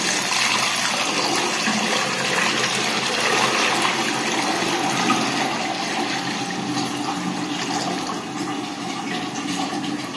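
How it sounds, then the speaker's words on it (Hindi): Test water from a new turtle aquarium pouring out in a steady, loud rushing gush that runs continuously for about ten seconds before easing slightly near the end. "ये नए वाले एक्वेरियम का जो टेस्टिंग पानी था ना, उसको गिराते हैं पहले।"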